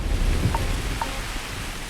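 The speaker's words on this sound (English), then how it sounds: "Why is there a storm?" Steady wind and rain noise of a storm on a thin-atmosphere moon in Starfield, a dense continuous rumble with two faint brief tonal blips, no talk.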